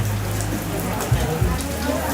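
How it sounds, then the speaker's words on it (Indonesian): Steady rain falls throughout, a dense continuous patter on a surface close by, with a couple of brief low thumps midway and faint background voices, during a rainy day in Toraja. "Aduh sayang hujan ini."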